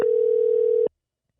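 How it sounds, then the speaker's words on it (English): A steady telephone tone sounds during an outgoing phone call, one continuous loud beep lasting under a second before cutting off to silence. "if I turn this up, do you hear it ringing?"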